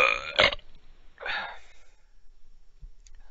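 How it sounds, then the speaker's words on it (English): A man burps after drinking Coke Zero, letting out a loud, raspy belch that comes in two close bursts, followed by a faint click in a quiet room. "Coke Zero burp. There you go."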